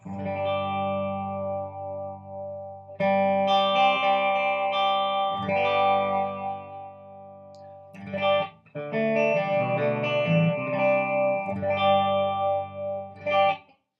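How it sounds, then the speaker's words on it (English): Walsh Les Paul electric guitar on its clean tone, playing sustained chords and picked notes with a light chorus shimmer, with short pauses between phrases; no talking. "here we'll run the clean tone for you first, kind of give you a feel of how this guitar reacts clean"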